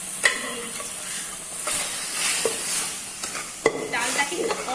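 Fried tempering goes into a pot of boiled dal, setting off a loud, close sizzle and steamy hiss with scattered clinks and stirring scrapes, no voices over it.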